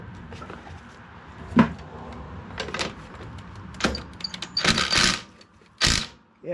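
A socket wrench on a 3/8 extension working the oil drain plug of a 1998 MTD lawn tractor, giving scattered metallic clicks and clunks with short ratcheting bursts, close and moderately loud.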